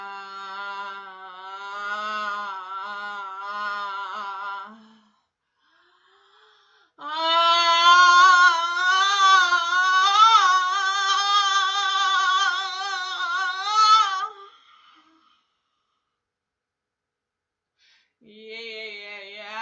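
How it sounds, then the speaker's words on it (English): A woman hums long sustained tones to open the throat chakra. Two extended phrases with a slight waver are separated by a pause, with a brief hum resuming at the end, close and alone. "I like to start off with humming."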